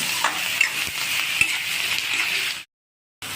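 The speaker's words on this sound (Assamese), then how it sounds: "এতিয়া আদা নহৰুখিনিও ভাজি ল'ব লাগিব।" Close sizzling of ginger and garlic frying in a hot pan with a few stirring scrapes, then a brief silence before the sizzle resumes.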